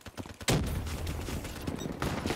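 Rapid gunfire from the Annihilator in Black Ops 3, a sudden loud volley of shots rattling together, fairly close and sustained for a couple of seconds.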